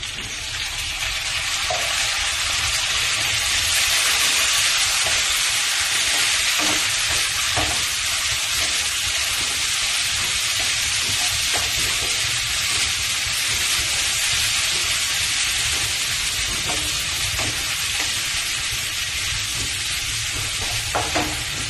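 Mushrooms being stirred and fried in a pan while preparing glutinous rice: a loud, steady sizzle with bright hissing throughout and occasional scraping stirs, no voices.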